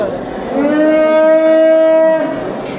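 A single long, loud cow moo close by at a livestock market in Çubuk, Turkey, drawn out for about a second and a half against faint background noise.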